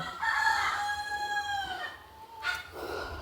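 A Kappiri spotted native rooster crows once, a long, loud, rising-and-falling call close by, followed by a short cluck-like note near the end.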